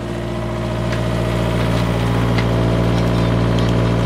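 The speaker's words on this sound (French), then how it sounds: "Voilà ce que ça donne le voilier quand on est au moteur." A sailboat motoring under its inboard engine gives a steady, droning hum with a low rumble, close and continuous for about four seconds, with no voices.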